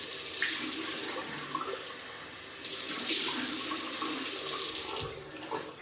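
Water runs steadily from a bathroom tap into a sink while a face is wetted before shaving, a continuous close hiss with small splashes and shifts in flow.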